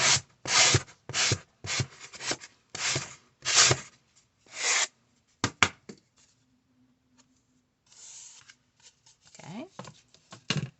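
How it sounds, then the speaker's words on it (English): Repeated dry rubbing strokes of a sanding block on a junk journal book cover, rhythmic bursts close by, with a brief pause and some scraping near the end. "I'm going to take my sanding block and just kind of sand this down a little bit."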